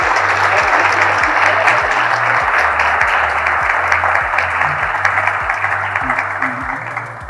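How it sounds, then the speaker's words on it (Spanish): Sustained applause from a conference audience in Honduras for a company's in-house team, dense and steady throughout, with faint talk underneath. "yo creo que el equipo merece un aplauso"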